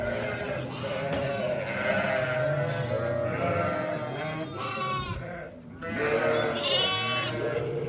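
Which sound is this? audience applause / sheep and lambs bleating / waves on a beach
sheep and lambs bleating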